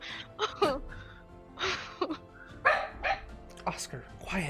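A dog named Oscar barks and yips repeatedly indoors in a room, sharp close barks in irregular bursts with some whimpering, mixed with people talking.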